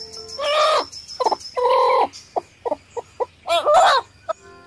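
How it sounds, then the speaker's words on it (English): Hen clucking close up in a series of short, sharp clucks and longer cackling calls, loud and clear with pauses between, no talking. "H for hen."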